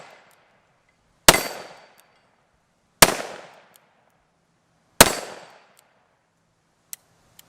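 Three loud, sharp gunshots from a Colt Python revolver firing hot rounds outdoors, evenly spaced about two seconds apart, each with a decaying echo, followed by a couple of faint small clicks.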